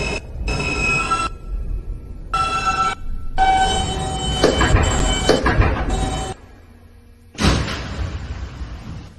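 A Queens-bound New York subway N local train on the Broadway line gives off bursts of bright, tonal whine and chime-like tones, broken by short gaps and a thud. After a brief quiet stretch, a loud burst of rumbling noise returns.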